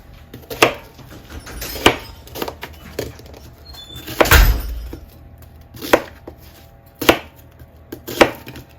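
A knife chops vegetables into large pieces on a cutting board for a sausage and potato sheet pan dinner, with sharp, separate thunks spaced about a second apart and one heavier strike in the middle.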